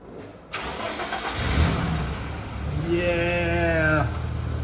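An old BMW car engine cranks and catches after a sudden onset, settling into a steady mid-pitched idle with a brief rising rev partway through, close and loud with no talking.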